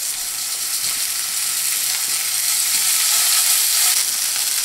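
Ground beef burger patties in a hot steel pan with a few drops of olive oil give a loud, steady, hissing sizzle that stays close and constant throughout, with no one speaking.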